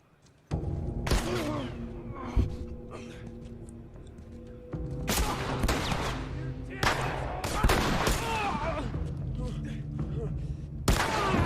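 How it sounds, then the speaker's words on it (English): Enemy gunfire in The Last of Us on Grounded difficulty: bursts of rapid shots and booming blasts come in several clusters over a steady in-game background, loud and close, with no talking over it. "I'm just gonna let them shoot them all up."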